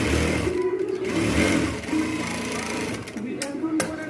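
Sewing machine stitching fabric for palazzo pants, a continuous dense mechanical whir running throughout, close and steady with a few brief clicks near the end.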